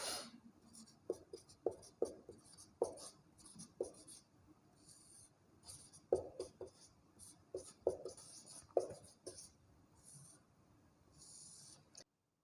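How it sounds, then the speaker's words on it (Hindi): Chalk or marker scratching out a heading on a classroom board in a chemistry lesson, a run of short strokes and taps repeating in uneven bursts, close and clear with no talk. "आज का शुरुआत में हेडिंग लिखता हूं मैं"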